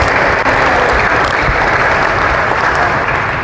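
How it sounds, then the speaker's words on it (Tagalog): A church congregation bursts into joyful applause at a worship service in Salawag, Dasmariñas, Cavite. Dense, steady clapping fills the whole stretch at close range, loud and even, with no voices standing out. "yung palakpak na may kagalakan, iba kaysa sa ordinaryong palakpak yan"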